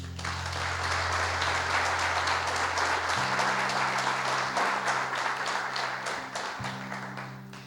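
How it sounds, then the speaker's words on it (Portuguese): A church congregation applauds steadily during a sermon, a dense sustained wash of many hands clapping over a low held keyboard chord that shifts in the background. "Pode aplaudir."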